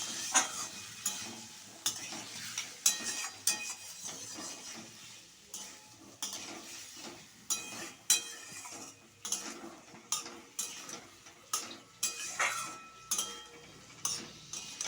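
Mixed vegetables sautéed with turmeric spice paste for a Bengali rohu fish curry, a spatula scraping and knocking the pan in a regular rhythm over a soft sizzle, close and steady.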